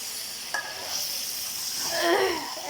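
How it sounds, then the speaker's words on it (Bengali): Chicken cooking with jackfruit seeds in a karahi gives a soft, steady sizzle, with a brief clink near the start and a louder stirring scrape toward the end, with no talking. "এক কড়াই কাঁঠালের বিচি দিয়ে মুরগি রান্না করতেছি"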